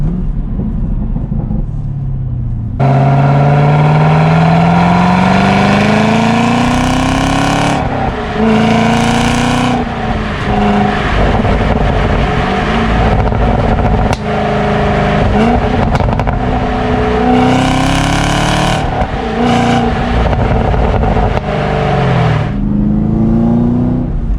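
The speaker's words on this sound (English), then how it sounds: "You can definitely tell the exhaust note does change between touring and the track setting there." A sports car engine in track mode revs up and down repeatedly, loud and close, with rising and falling tones and throaty exhaust between revs, no talk.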